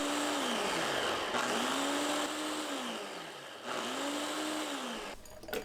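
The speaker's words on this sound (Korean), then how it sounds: "믹서에 배 370g, 양파 180g, 생강 20g, 쌀밥 2큰술, 물 200ml 넣고 곱게 갈아주세요" A blender grinds pear, onion, ginger, cooked rice and water, a loud, close motor whine that surges and dips in repeated cycles, then cuts off near the end.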